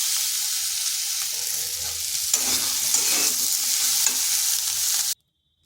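Potatoes and ivy gourd (kundri) frying in a wok, a loud continuous close sizzle with stirring scrapes, cutting off abruptly at the end.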